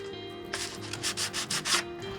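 Sandpaper rubbed by hand across a surface in a series of short, rhythmic scratching strokes, close and fairly quiet, over a steady low hum.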